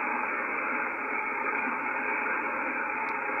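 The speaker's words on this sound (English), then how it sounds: "Watch what happens to the noise floor when I go to amp 2 with the R5." Steady hiss of the HF receiver noise floor on the 17 m band, heard through an R5 antenna with amp 2 switched on. The band-limited static holds loud and even throughout, with no voices over it.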